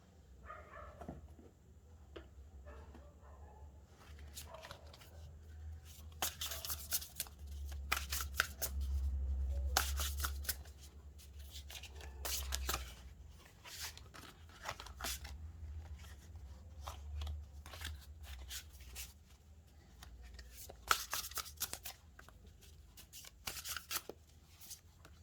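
Cards being shuffled in repeated quick riffling bursts, close and crisp, with quieter handling between them and a low steady hum underneath.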